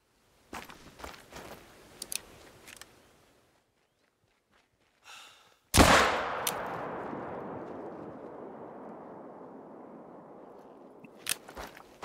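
A single pistol shot in theHunter: Call of the Wild, fired while hunting water buffalo at Parque Fernando. It is a loud, sharp crack with a long fading echo, preceded by soft footsteps and rustling.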